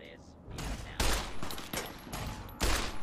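A 10mm pistol fired in the video game Fallout, several loud booming shots in quick succession with sharp attacks and short decays, close and punchy.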